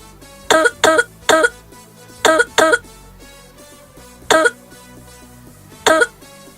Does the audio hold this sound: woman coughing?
yes